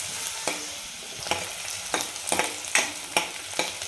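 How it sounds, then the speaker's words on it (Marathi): Onions sautéing in oil in a pan for a potato and pea dry bhaji, with steady frying hiss and a series of sharp stirring scrapes every half second or so, close up with no talking. "कांदा चांगला तेलावर आपल्याला दोन ते तीन मिनिट आपल्याला छान परतून घ्यायचं आहे"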